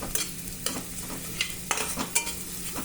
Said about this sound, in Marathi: छान असं परतून द्यायचं 1 मिनिटभर.